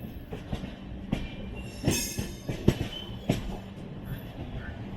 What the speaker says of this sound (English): I think we're crossing some train here.